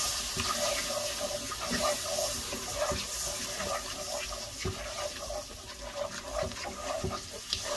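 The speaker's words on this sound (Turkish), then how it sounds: "Unumuzun üstüne şöyle bir su bardağı soğuk su ilave ediyoruz." Cold water poured from a glass onto flour browned in a pot for kelle paça soup, a steady close splashing and trickling with faint clinks running throughout.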